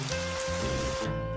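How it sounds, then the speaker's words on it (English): Rain sound effect, a loud dense wash of falling rain with steady tonal layers that thins out sharply near the end. "You can really smell rain."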